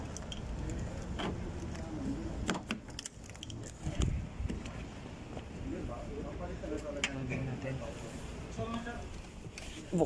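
Car keys jangle intermittently near a stalled Toyota being rescued, light metallic clinks scattered through the scene while people talk over them and background noise fills in.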